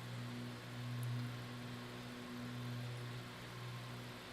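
A steady, droning aircraft engine hum from a flight simulator game holds at low volume throughout, smooth and continuous with a slight swell, no voices present.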